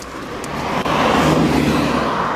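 A Citroen 2CV drives through Montreal streets with a steady, loud engine drone and road roar that swell slightly as it passes close by.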